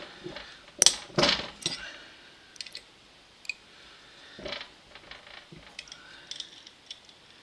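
Tight stator bolts on an Edwards E2M2 vacuum pump are loosened with sharp metallic clicks and clanks at first, then scattered lighter ratcheting ticks, all close and intermittent.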